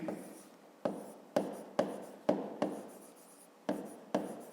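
A pen moves across paper in crisp, close strokes, about nine quick scratchy bursts in an uneven rhythm with brief pauses between them, quiet and alone.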